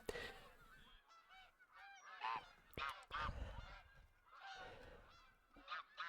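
Bean geese honking in theHunter Call of the Wild, a flock giving repeated nasal calls in irregular bursts, some louder and nearer, others fainter, with no talk over them.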